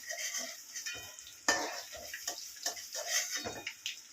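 Paneer frying in a pan, close and fairly faint, with a light sizzle broken by spoon scrapes and clinks as pieces are turned and lifted out.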